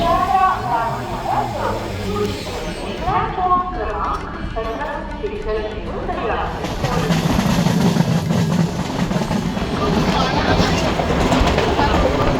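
Local train ride out of Sealdah railway station, with steady rumble and clickety-clack of carriages under continuous passenger chatter and talk.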